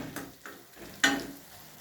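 Dal tadka of homemade lentils sizzling in desi ghee, with soft crackling frying noise, a few clicks and a sharper stir or pour burst near the middle, close and moderately loud.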